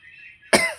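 A single sharp, close cough bursts out from someone suffering from a cough while sitting down to a meal of rice and fish, following a thin steady tone.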